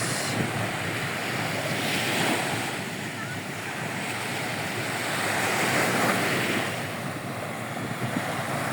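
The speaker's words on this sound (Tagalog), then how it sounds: "maririnig mo lang dito yung hampas ng hangin lalo na sa gabi" Steady wind roars across the microphone at a beach in Sipalay City, with surf washing behind it, swelling in two broad gusts; no one speaks.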